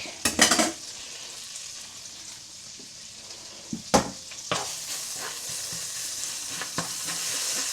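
Minced garlic frying in a pan used for beef salpicao, with a constant sizzle broken by sharp clatters of a utensil stirring and scraping against the pan.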